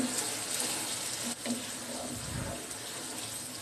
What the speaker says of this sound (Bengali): এবার ঢাকনা দিয়ে রান্না করব কলিজাটা কষানো পর্যন্ত।